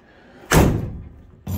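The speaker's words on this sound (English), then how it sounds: "you gotta slam these fucking doors because the hinges are kind of wore" A single heavy slam of a 1970 Chevelle door with worn hinges, a loud close thud in a garage that decays over about a second, then a second impact begins at the end.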